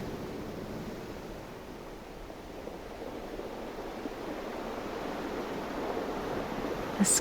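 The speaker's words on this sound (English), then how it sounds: "You look up at the ocean waves and notice the tide gently rolling in." Ocean waves roll in on a beach in a steady, unbroken wash of surf, with a soft, windy hiss and no voices.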